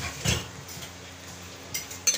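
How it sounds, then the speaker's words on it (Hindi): A spoon stirs tahari rice and vegetables in a cooking pot, giving a scraping clink early on, then soft scrapes and two sharper metallic taps toward the end, faint and close. "अच्छे से मिक्स कर दिया।"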